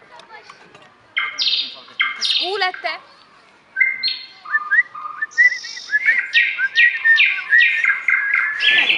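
A toy plays a recorded nightingale song in a clear sequence of bright chirps, whistles and warbling trills, close and fairly loud, with a brief pause in the middle and a child's spoken question at the start.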